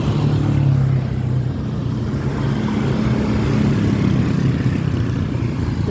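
Cars moving through a busy street on a Saturday, a steady close engine hum and rumble with an engine revving slightly at the start, a continuous traffic din with no voices.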